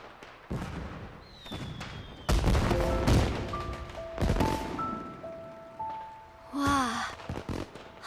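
Fireworks burst and crackle outdoors during a period drama scene, several sharp booms spread across the clip with a rising whistle, close and loud, with voices briefly heard between them.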